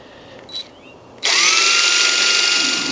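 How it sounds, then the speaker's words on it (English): A power drill drives decking screws into wooden pallets, first a faint brief whir and then a loud, sustained high-pitched motor whine lasting nearly two seconds. "So using these decking screws, I'm going to join these 2 pallets or on our fences together"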